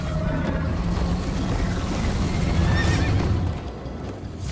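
A horse in Minecraft Story Mode lets out a loud, wavering neigh during a galloping chase, the whinny rising above a dense rumble of hoofbeats and motion noise.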